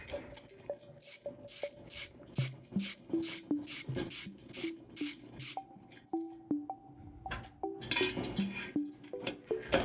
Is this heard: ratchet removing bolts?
yes